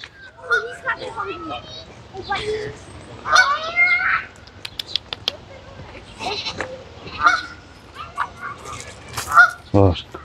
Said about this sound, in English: The dog doesn't like the geese. And the geese don't like the dog.